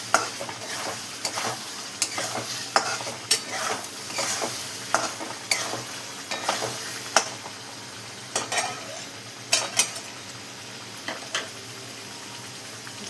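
Peas and potatoes fry in masala in a pan, with a soft steady sizzle under repeated scraping and clinking strokes of a spoon stirring against the metal, close and fairly quiet, with no talking.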